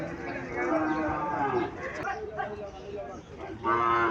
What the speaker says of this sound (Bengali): এখানে কিছু সাইওয়াল জাতের সার দেখা যাচ্ছে।